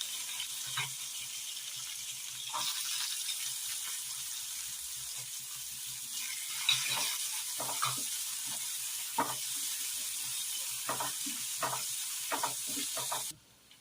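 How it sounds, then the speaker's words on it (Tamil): Onion sautéing with green chilies in a pan, a low steady sizzle with intermittent spatula scrapes and taps against the pan, moderately faint and without talk, cutting off abruptly at the end. "கொஞ்சம் பொரிஞ்சதுக்கு அப்புறமா வந்து வெங்காயம் ஆட் பண்ணிக்கலாம்"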